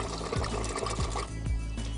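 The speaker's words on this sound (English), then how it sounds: "there is a button on the front to release the water" A portable toilet on a sailboat releases water with a steady rushing flow, a loud, close gush that carries on for the whole two seconds.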